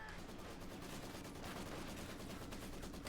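Heavy suppressive machine gun fire in Company of Heroes 2, a dense continuous rattle of rapid shots that sounds fairly distant and faint, with no voices.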